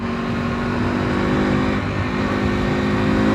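A KTM Duke 390 R single-cylinder motorcycle engine braking while ridden, a loud, unbroken engine roar that holds steady for a few seconds without any speech.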